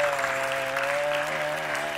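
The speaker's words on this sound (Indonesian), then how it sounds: "Tepuk tangan buat aku." Applause rises from a Zumba community group, a steady wash of clapping hands heard over a sustained musical tone, lasting the whole brief moment at even loudness.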